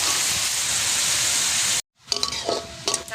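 Carrots hitting hot oil in a pan for a vegetable chicken biryani give a steady, loud sizzling hiss. It cuts off abruptly, then returns as lighter, uneven frying crackles with stirring.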